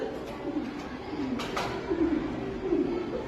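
A voice imitates a pigeon cooing, giving a few soft, low, throaty coos in steady succession, fairly close and moderately quiet over faint background noise.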